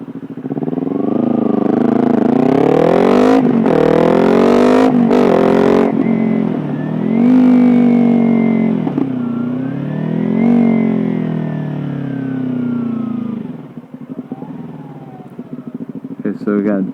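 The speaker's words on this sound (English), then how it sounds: "That was all engine braking right there." Kawasaki Ninja 300 motorcycle slowing on engine braking, the engine note revving and falling through several downshifts with sharp blips, loud and close, before settling into a lower drone and idle.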